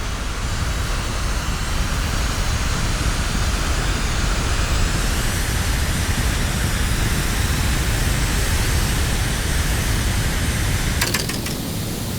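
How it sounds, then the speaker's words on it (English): A jet aircraft engine in Kerbal Space Program 2 roars loud and steady through a takeoff run down a runway, with a constant broadband rush that does not let up and a faint clicking near the end. "I like to take it all the way to the end of the runway, just let it fly right off the edge here"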